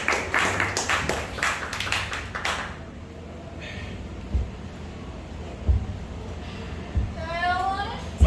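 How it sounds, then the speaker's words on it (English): An improv comedy audience at Laughing Stock Improv, Velo Fellow, claps in a brisk, dense burst for under three seconds, then the applause fades and talking takes over. "Clap it up for them."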